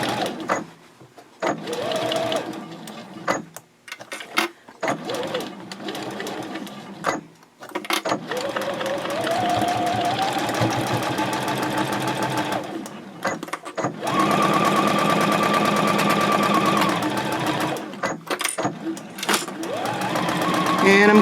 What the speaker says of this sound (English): Make sure that you don't sew over your handle.